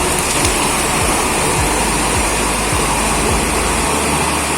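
Water is poured out of a cooking pot that holds a ring used as a splash guard, making a steady, loud, close rushing splash that runs without a break for the whole stretch.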